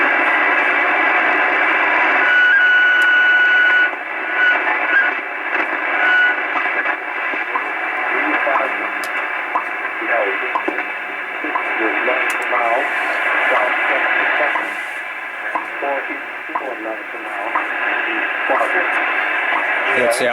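WWV time station from Fort Collins, Colorado on 10 MHz, received on an Icom 730 radio with an outdoor antenna: steady shortwave hiss with a faint announcer's voice and pulses running under it continuously.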